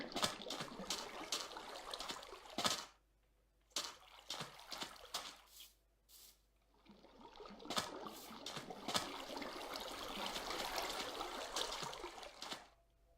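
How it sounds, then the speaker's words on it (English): Water pouring from a bucket in the video game Minecraft, bursts of splashing, trickling flow broken by short pauses and ending in a longer steady stream. "Another bucket of water."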